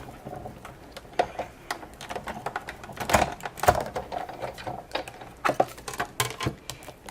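Embossing folder fitted with a shim rolled through a hand-cranked die-cutting machine, giving close, irregular mechanical clicks and ratcheting knocks, with a few sharper clacks partway through.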